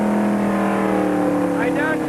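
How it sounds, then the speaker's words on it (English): A NASCAR Cup race car engine drones loud and steady at Road America as the driver downshifts, its tone holding mostly level with a brief rising rev near the end. "I downshift into third and then into second gear"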